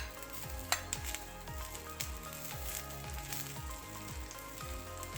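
Onions sizzle in a stir-fry pan while a halibut stir fry is cooked, a quiet, continuous frying hiss with light stirring and small pops throughout.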